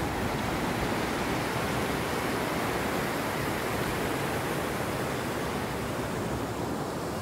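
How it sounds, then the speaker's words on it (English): Waterfall heard on a hike in the woods, a constant broad roar of rushing water, loud and unbroken for the whole stretch, with no voices over it. "waterfalls."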